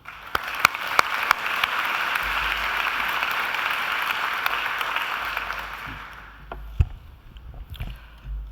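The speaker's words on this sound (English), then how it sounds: "You get a big clap from people before you've even said a word." A graduation ceremony audience at Macquarie welcomes the occasional address speaker with a long round of applause, a steady crowd clapping that swells and then fades out, followed by a few isolated thumps and near silence.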